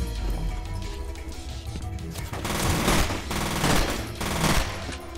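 Rapid bursts of automatic gunfire in the shooter game F.E.A.R., loud clattering volleys swelling and fading over several seconds with crashes mixed in.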